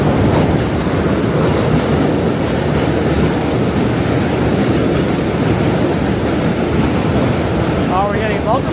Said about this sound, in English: That's an M train.